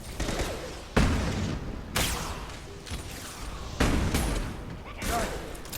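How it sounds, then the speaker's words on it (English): Impact shots fired in Mass Effect 2 land as several loud, sharp gunfire blasts about a second apart, each trailing off into rumbling noise, up close with faint game ambience between. "Firing an impact shot."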